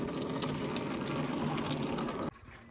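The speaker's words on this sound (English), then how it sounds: "Let me go wash my hands." Water runs steadily from a tap as hands are washed clean of coolant, a continuous close splashing rush that cuts off abruptly near the end.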